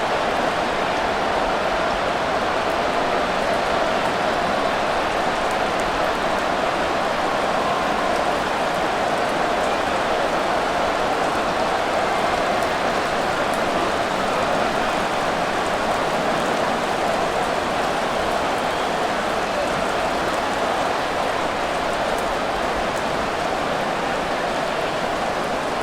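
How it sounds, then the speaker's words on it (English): Steady, dense rain falling throughout a Madden NFL 24 simulated game between the Los Angeles Rams and New York Giants, a constant close hiss of heavy downpour with no talking. "The rain set to continue as we are underway in the second half."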